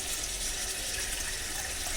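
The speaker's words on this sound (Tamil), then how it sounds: "ஜஸ்ட் இப்போ வந்து நம்ம வந்து 1 liter வாட்டர் ஆட் பண்ணுறோம்" Water is poured from a cup into mutton biryani masala in a steady, close, gushing splash that lasts about two seconds, with no one talking.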